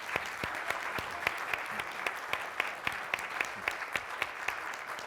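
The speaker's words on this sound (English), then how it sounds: "please give a round of applause to our panelists" Applause from a conference audience for panelists, steady clapping of moderate loudness in a room, with a few distinct nearer claps in a loose rhythm over the dense background.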